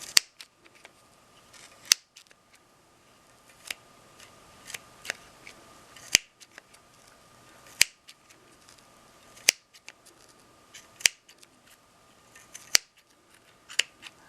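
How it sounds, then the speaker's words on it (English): Scissors snipping through wound yarn layers of a knitted pom pom, a series of crisp, close, evenly spaced cuts roughly every second or two, quiet between snips. "Sometimes you can't get through all of the layers, so you just snip through a few."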